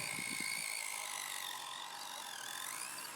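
A Kyosho Mini-Z Suzuki Jimny 4x4 RC truck running on a trail, its small motor and gears giving a continuous high whine with shifting pitch, with a few brief low knocks at the start.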